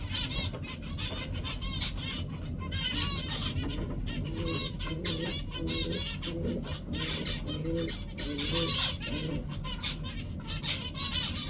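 Pigeons on a farm coo continuously, several birds overlapping in soft repeated calls against a steady background hum, with faint clucking from nearby fowl mixed in.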